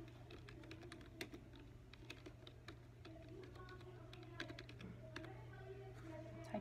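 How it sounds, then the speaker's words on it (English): Irregular soft clicks of typing on a computer keyboard at a library checkout desk, quiet and close, with a steady low hum underneath and no talk. "Typing in the patron's name"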